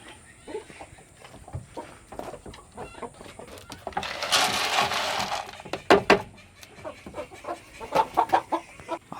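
Chickens cluck on and off nearby in a goat pen, mixed with wooden knocks and rustling, and a brief burst of noisy scraping in the middle.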